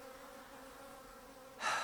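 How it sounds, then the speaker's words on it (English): Bees buzz steadily in a low, continuous drone at a quiet camp in Culgoa Floodplain National Park, growing louder near the end as one passes close by. "Only had a few bees join me."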